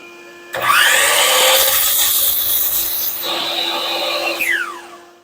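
A power saw cuts a wooden frame piece with a loud, close rasping roar that holds for several seconds over a constant motor hum, then winds down at the end.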